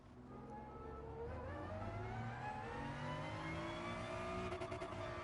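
A race car engine in the Gran Turismo Sport video game revs and climbs through the gears, a smooth rising whine sustained steadily and loud with no talking.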